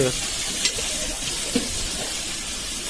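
Oil in a pan for biryani gives a steady, close, hissing sizzle throughout, with a couple of brief clinks and faint background voices.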